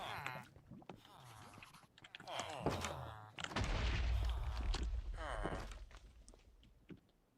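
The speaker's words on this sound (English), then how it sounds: "You heard an explosion." A Minecraft explosion erupts as a deep, booming rumble lasting a couple of seconds, rising loud out of a mix of game sounds and a voice in the background.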